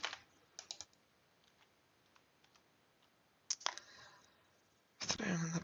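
Computer keyboard typing in quick bursts, with a short flurry near the start, a louder run of keystrokes partway through and a dense final burst, quiet gaps between.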